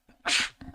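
A single loud, sharp sneeze bursts out near a quiet card table during a Magic: The Gathering tournament match, followed by faint shuffling and small movement noises.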